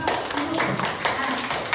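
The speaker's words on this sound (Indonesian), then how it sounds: "tepuk tangan dulu." Bapak-ibu guru in an Indonesian school audience clap their hands together for a couple of seconds, a dense, steady patter of many claps filling the room.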